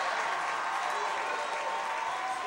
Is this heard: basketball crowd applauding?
yes